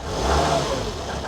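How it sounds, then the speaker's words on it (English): A 2003 Volvo XC90 D5 diesel engine revs briefly up close, with an uneven, rough tone from a misfire as the revs rise and settle. "yep, back to misfiring"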